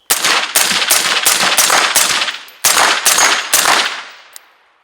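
Rapid shots from a Tinck Arms Perun X16 AR-15 rifle, a 10.5 inch left-handed setup, crack out loud and close in two quick strings of about nine reports, each shot leaving a short ringing tail.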